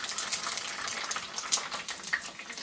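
Nagli (finger millet) papad frying in a pan, giving a steady dense crackling sizzle throughout with small pops, close and fairly loud, no talk.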